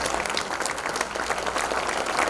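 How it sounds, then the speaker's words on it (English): Audience applause at an event after the emcees are introduced, a dense, even burst of clapping from a crowded room, moderately loud, without voices. "Please give them a round of applause."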